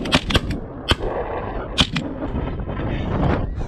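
Shotgun blasts while pass shooting snow geese outdoors, a few sharp reports in quick succession followed by a lone shot and open field ambience.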